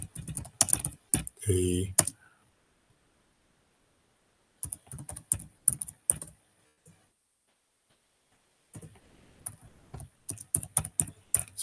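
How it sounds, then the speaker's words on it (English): Short bursts of rapid typing on a computer keyboard, clicking in quick clusters separated by long silent gaps, close and fairly quiet, with a brief spoken word in between. "I'm going to type in, whilst you can't see it"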